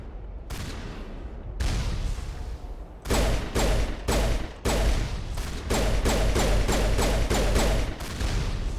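Enemy gunfire rattles at the player in the Mass Effect 1 video game, sounding as loud, close bursts of rapid automatic shots, with short gaps that give way to near-continuous firing, and no talking.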